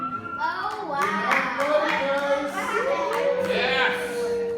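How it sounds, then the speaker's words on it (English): Several people clap in a steady round of applause at a home Hanukkah lighting after the oil is lit, with children's voices and chatter mixed in throughout. "Everyone needs some huge round of applause"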